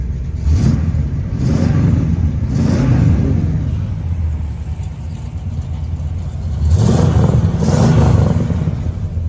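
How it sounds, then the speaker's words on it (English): A deep, powerful muscle car engine revs loudly twice, rising and falling between steady idle rumbling, close by with no talking. "The car just sounds great."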